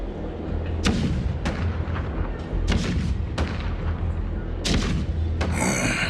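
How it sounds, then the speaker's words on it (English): Repeated booming cannon shots in the video game Honkai Star Rail, irregularly spaced, with a continuous low battle rumble between the blasts. "the rumble of the cannons"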